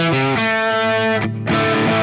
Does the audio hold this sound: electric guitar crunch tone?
yes